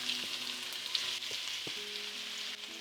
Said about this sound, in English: Start browning the onions.